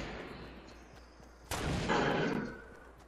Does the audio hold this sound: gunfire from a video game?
yes